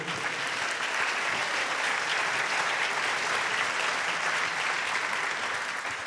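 Steady, dense applause from an audience at a sports awards ceremony, the Rhône d'Or du Sport 2023, saluting parents. Even and sustained throughout, with no voices standing out.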